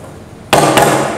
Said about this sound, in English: the impact protection can be proved with this hammer.